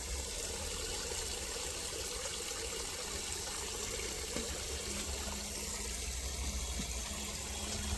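Liquid fertilizer stirred into about twenty litres of water in a bucket for a rooftop garden gives a steady, continuous sloshing and swirling wash of water, fairly close and even throughout, with no talking.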